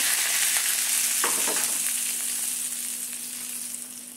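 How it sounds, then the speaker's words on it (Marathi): Hot tadka of oil with cumin and mustard seeds poured over a summer koshimbir salad gives a steady close sizzle, with a brief louder crackling burst early on, then a continuous hiss that slowly eases; no voices. "थोडंसं तेल टाकायचं आहे, आपल्याला थोडीशी जिरे मोहरी घालायचं आहे। बघा, आता आपल्याला तडका त्याच्यावर सोडायचा आहे"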